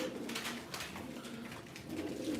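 Pigeons coo steadily and close by at a live pigeon auction in Ankara, a low continuous murmur of overlapping coos with faint background rustle.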